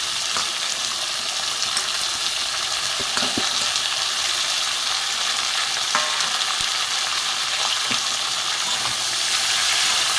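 Taro stalks with radish, pointed gourd, potato and eggplant frying in a pan, a loud dense sizzle and hiss running steadily with occasional faint stirring ticks.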